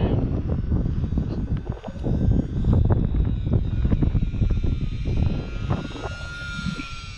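A Horizon Hobby UMX Turbo Timber RC plane flies in windy conditions, its steady motor drone running continuously under heavy, gusty wind rumble across the microphone.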